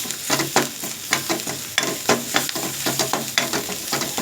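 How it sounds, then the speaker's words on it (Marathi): Home-style village chicken stirring and sizzling in a pan with homemade masala, with steady frying hiss and repeated scraping stir strokes throughout, close and fairly loud, without talk. "छान परतू द्यायचा मसाला पण टाकून"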